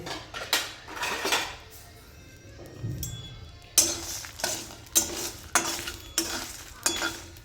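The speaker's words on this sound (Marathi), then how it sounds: "आता हे सर्व मसाले टाकून घ्यायचे आहे आणि चांगले खरपूस भाजून घ्यायचे आहे" Dry spices being stirred and scraped in a hot metal wok over low heat, a series of rhythmic scraping strokes with a faint sizzle beneath.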